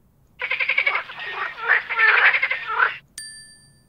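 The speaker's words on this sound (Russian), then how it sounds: "Покажи лягушку. Она зеленая." A cartoonish frog croak from a children's learning game rattles steadily for about two and a half seconds, followed by a short bright ding chime.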